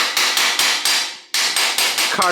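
Sharp, loud hammer blows strike a cotter pin on the bottom bracket spindle of a vintage Peugeot bicycle, about eight evenly spaced hits close up with a brief gap between groups.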